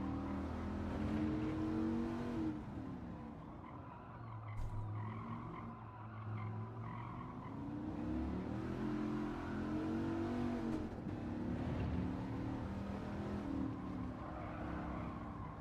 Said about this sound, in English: Can't get the car balanced right in 3rd gear on this corner.